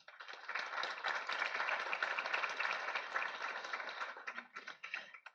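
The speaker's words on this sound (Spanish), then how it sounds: "Un aplauso para él, por favor." Audience at an inaugural academic event giving a guest speaker a round of dense, steady applause that swells quickly and then tapers off over several seconds.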